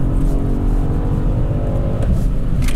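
A BMW M850i driving on a road, heard as a loud, steady engine and road drone with a slight rise in pitch toward the end, with no voices over it.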